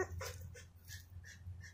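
Mandinka, a dog, gives a series of faint, high whimpers and soft whines in short bursts, quiet and close over a low hum.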